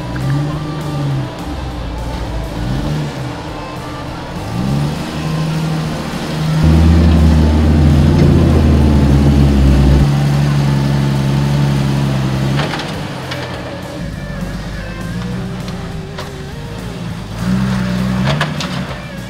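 A short-wheelbase manual 4x4 strains up a muddy trail obstacle in the rain, its engine droning and rising as the wheels spin, with loud revving bursts mid-clip and mechanical clunks near the end.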